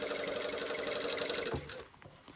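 A home sewing machine stitching a shirtdress sleeve placket, its steady whirring hum running continuously close by, then stopping abruptly and giving way to a few faint handling clicks.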